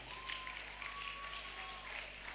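An audience at a convention applauds in a steady wash of clapping, faint and diffuse across the hall, with a sustained tone running beneath and no clear individual claps.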